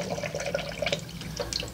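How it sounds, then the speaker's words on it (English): A watercolor paintbrush is rinsed in a water container, giving soft, light splashes and drips that repeat steadily for a couple of seconds at close range, with no voices. "about now, I'm going to clean my brush out"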